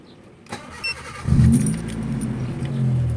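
A Honda Civic engine cranks and catches after a couple of small clicks, then settles into a steady idle close by.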